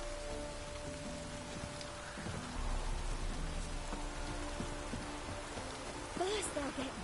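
Rain falls steadily in The Witcher 3, a soft, even hiss under quiet game sounds, faint throughout with a brief rise in the middle.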